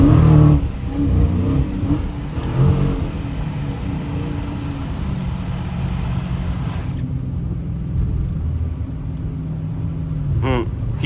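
A 2022 Dodge Challenger Widebody Scat Pack pulls hard with a window cracked open, a loud rumbling engine roar building for about seven seconds before easing into a steadier lower drone.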